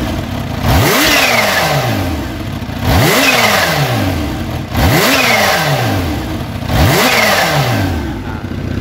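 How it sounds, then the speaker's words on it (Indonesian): Kawasaki Ninja motorcycle engine, Ninja H2 supercharged or ZX-10R, warmed up and revved to about 6000 RPM in four even, repeated throttle blips, each rising then falling, loud and close with a whining edge. "bisa langsung kita mulai start player untuk sesi yang pertama di angka 6000 RPM dulu"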